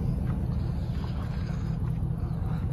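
Twin Yamaha 250 outboard motors running on a boat, giving a steady low rumble mixed with wind buffeting and water noise, continuous and fairly loud throughout.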